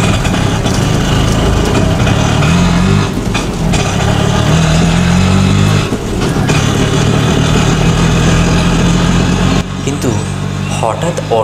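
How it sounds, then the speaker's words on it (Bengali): An auto rickshaw's small engine drones steadily at close range throughout, with a narrator's voice running over the constant motor noise. "ট্রেন থেকে নেমে অটো করে যায় দীপেনদার দাদুর বাড়ির দিকে।"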